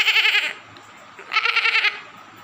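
A boy imitates a goat, giving two wavering, nasal bleats separated by a short pause.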